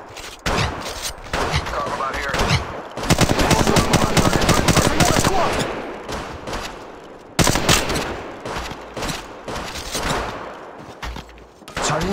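Dense automatic gunfire and rapid bursts ring out from a mobile battle-royale match in Apex Legends Mobile, loud and near throughout, with sustained fire in the middle and sharp shots at the end, while a voice talks over it.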